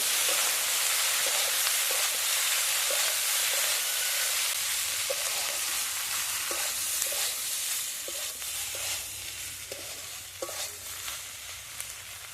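Egg bhurji with spring onions sizzles steadily in a pan while a spatula stirs it, giving short scraping strokes at an irregular rhythm over a constant close frying hiss.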